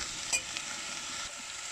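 Mixed vegetables for a clear soup, seasoned with salt and chili, stirred in a pot over a low, steady sizzle, with faint spoon scrapes close by and no voices.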